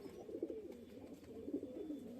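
Rajasthani pigeons coo softly nearby in two low, throaty bursts against quiet background noise.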